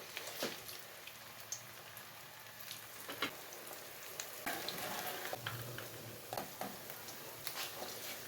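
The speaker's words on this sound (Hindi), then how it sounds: "अब तेल गर्म हो गया, तो अब डाल देंगे इसमें" Snacks fry in hot oil in a home kitchen, giving a soft, steady crackling sizzle with scattered small pops, faint and fairly distant, with no voices.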